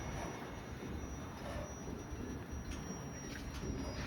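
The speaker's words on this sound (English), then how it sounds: "This train is stuck, waiting for passing train to pass." A passing train at Ōtāhuhu station in Auckland gives a steady, low rumbling roll of wheels on rails that persists throughout, with faint squealing tones overhead, heard from a stopped train nearby.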